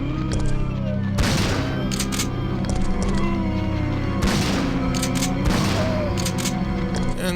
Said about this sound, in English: let's grab some ammo and then shoot the zombies while they're grouped with a shotgun